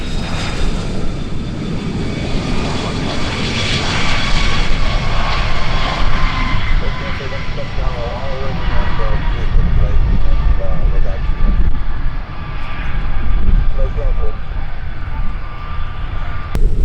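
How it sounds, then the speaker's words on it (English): F-35 fighter jets rolling out after landing at EAA AirVenture Oshkosh 2019 give a steady, loud jet-engine roar that swells and holds for the whole stretch, with wind buffeting and an announcer's voice over the din. "And my F-35s, roll all the way to the end, my guidance there."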